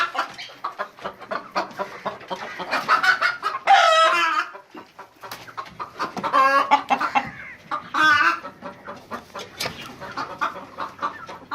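Chickens cluck and squawk close by at a chicken breeding setup in a busy, irregular stream, with a few louder drawn-out calls standing out.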